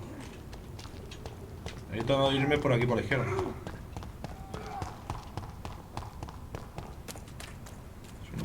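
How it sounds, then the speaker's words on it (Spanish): Horse hooves clip-clopping on city streets in a vampire video game, a run of quick, close, rhythmic hoof knocks that is loudest early on, while someone talks over the gameplay. "Suena como un caballo"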